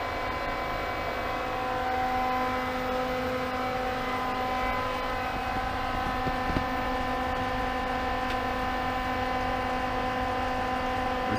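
Pentair SuperFlo variable speed pool pump running at 3000 RPM on dual suction lines, a steady motor hum with stable tonal whine that holds evenly throughout, close and alone.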